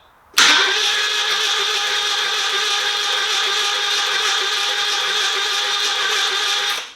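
Mini Cooper engine with its spark plugs removed, cranking over on the starter: an abrupt start into a loud, steady whirring drone held for about six seconds, then cut off.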